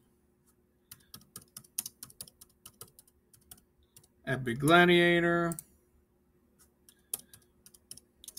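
Quick irregular keystrokes clatter on a computer keyboard during a Roblox game session, close and crisp, pausing while a voice speaks briefly in the middle before the typing resumes.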